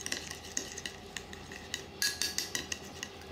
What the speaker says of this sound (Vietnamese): Rồi mình khuấy hỗn hợp này lên rồi để một lát mình sẽ ướp